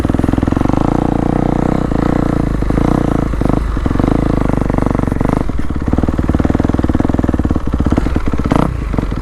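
A motocross motorcycle tearing around a sand training track, its engine loud and constant with rapid throttle blips and chattering gear changes, heard up close from the rider's position.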